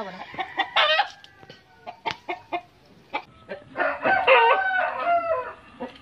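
A Sweater-breed gamefowl rooster crows and clucks close by. Several loud, strained crows and short calls come in uneven bursts over quiet background.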